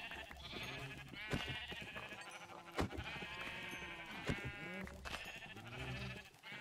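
Sheep in a video game bleat repeatedly, several wavering calls overlapping at close range in an irregular rhythm, moderately loud with no talk.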